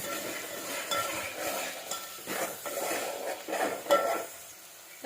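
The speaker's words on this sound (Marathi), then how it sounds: "तो कांदा आणि कोथंबीरची पेस्ट आहे ती फ्राय करून घेऊ अगोदर" A paste of roasted onion and coriander fries in oil in a pan for puran poli, a close sizzle with repeated stirring scrapes and occasional clinks of a metal spoon against the pan.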